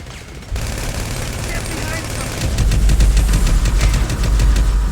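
Loud, dense gunfire from the video game GTA 5, with rapid automatic bursts and shots fired from a house terrace that grow heavier and more continuous as the clip goes on.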